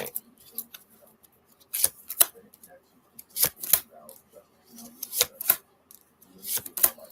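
Tarot and oracle cards are shuffled by hand in repeated bursts of crisp riffling and flicking, close and clear, with soft quiet gaps between the shuffles.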